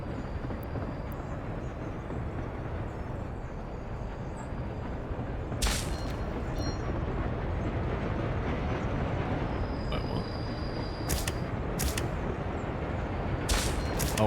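Trains rumble out of a station in the Soviet-republic building game Workers & Resources, a steady low rolling drone with occasional high creaks and brake hisses, moderately loud throughout.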